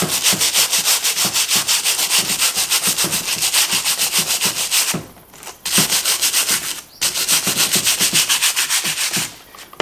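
Rhythmic back-and-forth scraping of wood being sanded by hand, loud and close, with two brief pauses before the strokes resume.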